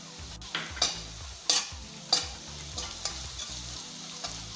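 Fried onions with turmeric stirred in a hot pan, a steady sizzle broken by repeated scraping strokes of a spoon at a regular pace, close and clear with no talking.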